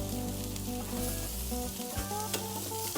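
Barbecued ribs sizzling on a grill, a dense continuous crackle and hiss that stays loud and close with a steady low hum underneath and no talking.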